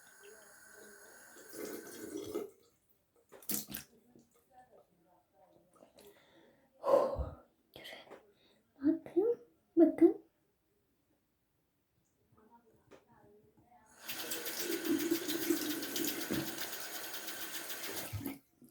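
Tap water runs into a sink during face washing, with scattered splashes and breathy gasps early on, then a steady close stream of running water near the end.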